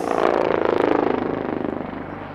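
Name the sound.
helicopter performing aerobatic maneuvers at an air show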